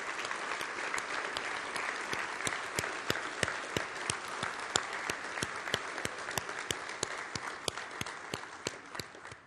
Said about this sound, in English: please give a huge round of applause for the folks that are making the dreams and hopes of this organization possible